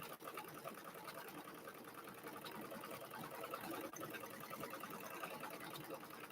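An embroidery machine stitching a design in the hoop with red variegated thread on blue fabric, a quiet, continuous rapid mechanical whir running evenly throughout.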